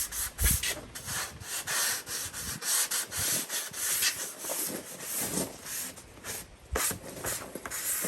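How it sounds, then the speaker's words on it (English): A sanding block rubs back and forth across rough edges on a truck bed setup, giving a steady, close, scratchy scraping in repeated strokes with no talk. "See how it tears up the sanding block?"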